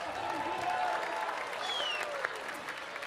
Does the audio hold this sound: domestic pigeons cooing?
no